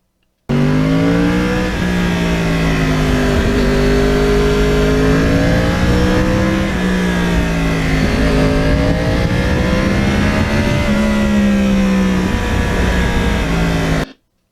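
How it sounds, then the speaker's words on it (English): A 2009 Yamaha R1 sportbike with a crossplane engine revs continuously and loudly close by, its deep harmonic growl rising and falling through repeated throttle blips and backing off over about fourteen seconds, with no talk. "there is something special about that cross-plane motor. When you back off the gas, the sound is unbelievable. It's like a jet engine."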